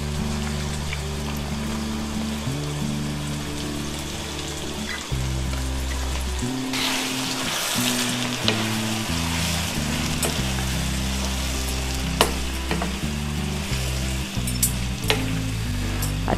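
Aloo mungray, potatoes with washed mungray pods, fry in a pan with a continuous close sizzle, broken by occasional clicks of stirring over a steady low hum.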